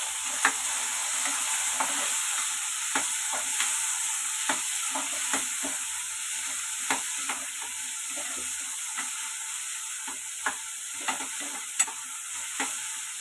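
Tomatoes fry for chicken biryani in a pan with a steady sizzle, while a spoon stirs and scrapes at irregular intervals, close and continuous with no talking.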